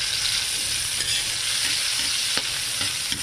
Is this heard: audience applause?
no